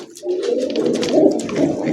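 Close, loud cooing from a pair of tiger grizzle pigeons, a soft continuous throaty warble running through the whole short stretch.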